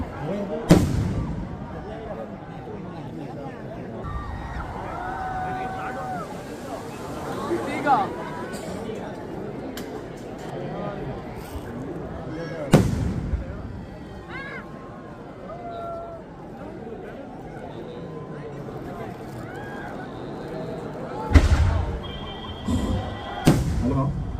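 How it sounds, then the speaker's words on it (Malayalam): Fireworks at a Kerala temple festival arattu ground fire as sharp, loud bangs at intervals, with crowd chatter and an announcer talking over a public address system throughout. "സുരക്ഷിത സ്ഥാനങ്ങളിൽ മാറി നിന്നുകൊണ്ട് ഈ വെടിക്കെട്ട് ആസ്വദിക്കണമെന്ന്"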